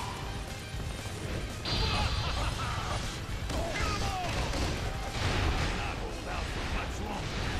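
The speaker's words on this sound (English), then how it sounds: "Boom. Oh, that explosion." Explosions and crashing combat noise from the video game Dynasty Warriors 8 Xtreme Legends, dense and continuous, with heavy booms and impacts over a busy battle din.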